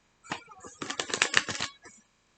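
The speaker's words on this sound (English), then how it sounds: "let me shuffle one more time" A brief burst of tarot cards being shuffled up close, a soft riffle of rapid flutters lasting about a second and a half, then a final tap.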